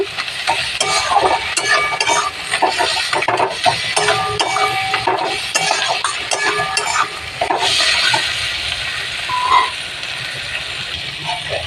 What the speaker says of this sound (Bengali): মাথাটা পেঁয়াজ দিয়ে বেশ আবার একটু ভাজা ভাজা করে নিলাম